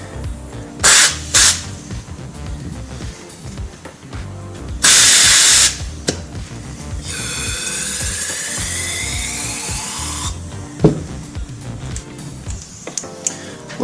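A fuel injector from a Porsche 924 Turbo is tested. Sharp bursts of spray hiss come in two quick puffs, then a longer loud blast, followed by a fainter sustained whine and scattered clicks.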